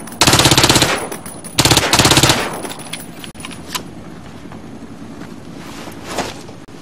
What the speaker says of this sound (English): Hit the target with your SMG.